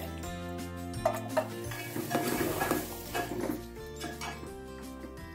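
A spoon stirs stuffed brinjal masala in a pot over the gas, with leftover spice filling added. Soft scraping and clinking of utensil on metal repeat under steady background music.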